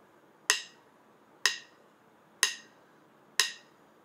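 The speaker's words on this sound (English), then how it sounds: "A metronome is a device that produces an audible click or other sound at a regular interval that can be set by the user" A phone metronome app ticks four times at a slow, steady tempo, each sharp, clear click about a second apart, with quiet gaps between them.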